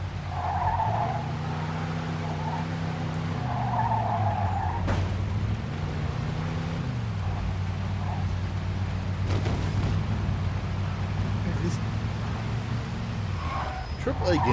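Car in the video game Mafia 2 drives and skids through narrow city streets, with a loud steady engine drone rising and falling in pitch, tire squeal, and someone talking over it.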